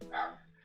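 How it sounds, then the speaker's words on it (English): A dog barks once outdoors, heard from inside a vehicle: one short, clear bark at moderate volume, with no voices over it. "Dogs bark at nothing."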